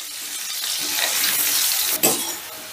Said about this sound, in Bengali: এবারে গ্যাসের আঁচটা বাড়িয়ে দিয়ে আমি আলুটাকে বেশ লাল লাল করে ভেজে নেব।